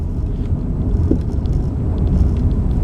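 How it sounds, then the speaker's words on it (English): A car passes close by and turns left on a road, a steady low engine and tyre rumble that fills the span at fairly high level, with no talk over it. "That was the car that turned left by me."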